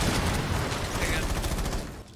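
Rapid, dense gunfire fills a Rainbow Six Siege match, loud and continuous with automatic bursts layered on top of each other, and players' voices mixed in.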